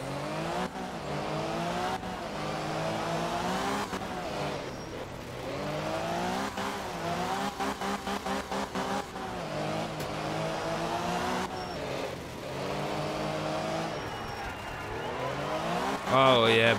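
Rally car engine in the video game Art of Rally, revving and shifting continuously with tire squeal as the handbrake slides it around corners, loud and steady throughout, with someone talking over it.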